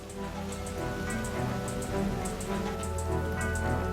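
Steady rain falling in the Amazon rainforest, a dense continuous patter with scattered distinct drips, constant and fairly loud throughout with no voices.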